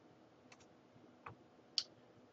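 Mouse clicks while a Windows 8 virtual machine is being set up: three faint, isolated clicks spaced roughly half a second apart over a quiet room hum, the last one sharpest.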